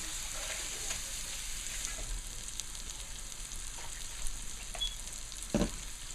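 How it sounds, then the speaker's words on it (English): Chopped katahar is frying in a pan with a steady, bright sizzle that runs the whole time, and a few soft clatters of stirring break through it. "So now I'll be adding in the Katahar."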